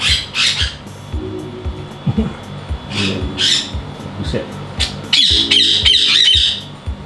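A hooked-bill parrot in an exotic-animal collection gives loud, harsh squawks close by, repeated in bursts with a longer shrill run near the end, over background noise and a brief spoken exclamation.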